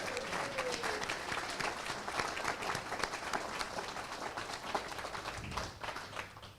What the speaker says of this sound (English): If everyone could give them a round of applause.